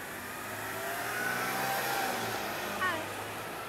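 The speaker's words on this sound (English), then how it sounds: "And I hear a car." A car passes outside, its engine a faint, steady rumble that swells gently in the middle of the clip, heard through indoor room noise.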